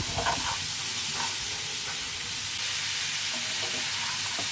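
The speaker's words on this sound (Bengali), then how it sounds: "আগে থেকে কুচি করে রাখা মূলা, সেইগুলো আমরা মশলার মধ্যে ভালো করে একটু কষিয়ে নিব।" Chopped radish sautéing in spice paste for a taki fish curry, a steady broadband sizzle with occasional scraping stir strokes, close and continuous, no voices.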